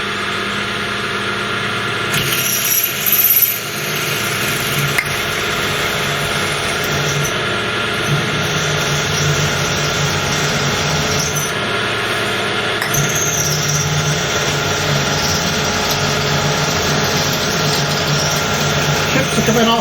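A MIDI CNC router cuts chassis parts through a straight-cut gearbox, giving a steady mid-pitched machine drone with a constant hiss and faint shifts in tone, continuous and fairly close for the whole stretch.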